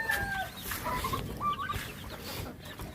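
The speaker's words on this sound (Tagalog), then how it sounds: "Yung mga manok." Several chickens cluck and squawk close by in short, irregular calls over faint background rustling.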